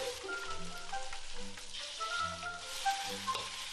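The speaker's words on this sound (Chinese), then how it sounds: "好客的村民特意为大家烹饪了几道牡蛎" Oysters sizzle and fry as villagers cook them into dishes such as oyster omelette, a steady crackling hiss with pops and faint utensil clinks, close and fairly loud, with no voices.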